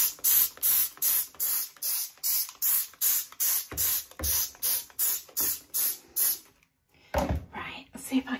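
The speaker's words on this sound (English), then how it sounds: "And I am just going to give this a quick spray." 8 in 1 cleaner spraying a sink, more than a dozen quick hissing spray bursts in a steady rhythm, close and distinct, followed by a pause and some faint handling noise.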